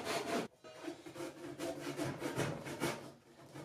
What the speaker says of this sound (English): so I just finished it with a pull saw